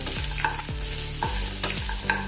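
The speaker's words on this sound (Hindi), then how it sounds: "अभी इसमें हम अदरक लहसुन का पेस्ट डालेंगे, ज़रा सा कुटा हुआ। इसको भी थोड़ा देर भूनेंगे" Coarsely crushed ginger-garlic paste sizzles and crackles in a hot pan while a spoon scrapes and stirs in a regular rhythm, up close.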